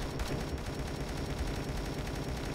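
Automatic turret firing in the zombie game Dead Ahead: Zombie Warfare, a dense, continuous stream of rapid gunfire blending with battle noise, loud and steady throughout with no pause.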